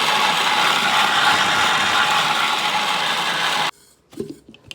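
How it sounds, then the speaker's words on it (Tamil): Mixer grinder blending spinach with water for palak paneer, a loud steady whirring grind for most of the stretch that stops abruptly, followed by a few faint clatters. "எடுத்து வச்ச தண்ணியும் லைட்டாக ஊற்றி ஃபுல்லாக இந்த மாதிரி அரைச்சிட்டோம் நம்ம பாலக்கீரையை"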